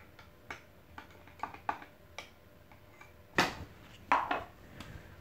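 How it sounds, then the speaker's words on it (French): A spoon clinks against a mug while stirring hot chocolate with syrup, giving scattered light ticks and taps, with two louder rattling clinks near the end. "Sans oublier de touiller mon mug pour que le sirop se mélange bien au chocolat chaud"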